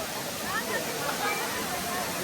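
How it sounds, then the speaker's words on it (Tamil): Small streams of water pour down from above in a continuous, moderately loud splashing wash, with faint voices or crowd murmur mixed in. "இந்த மாதிரி சின்ன சின்ன சிறு சிறு ஓடைகள்லாம் அப்படியே மேலேருந்து தண்ணியாக ஊற்றுது பாருங்கள்"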